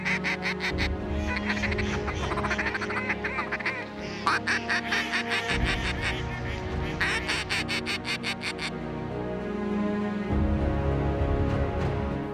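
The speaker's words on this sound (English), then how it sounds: "The sky full of mallards. Thousands of ducks going into these cattle ponds" A large flock of thousands of mallard ducks quacks loudly and continuously over cattle ponds near Steele, North Dakota, many overlapping calls rising in dense bursts nearby.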